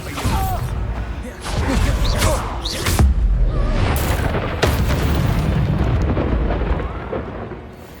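Expelliarmus is cast in Hogwarts Legacy during a spell-heavy fight, bringing a dense run of booming magical blasts, sharp bursts and crackles that stay loud and close throughout, with brief vocal shouts mixed in.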